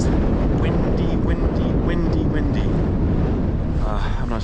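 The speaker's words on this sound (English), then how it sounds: "It is windy." Strong wind buffeting the microphone with a constant low roar, and faint bird chirps in the background, on the Pacific Crest Trail near Idyllwild.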